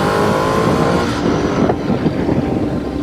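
A 2012 Ducati Multistrada 1200 motorcycle rides through a tunnel, its engine and exhaust roaring loud and close, with heavy wind rush throughout.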